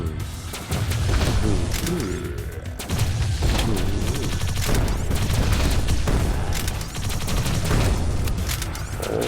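Explosive guns fire in the zombie shooter Idle Zombie Waves, a dense run of booming blasts and rattling bursts with metallic mechanism clicks, loud and continuous with brief dips.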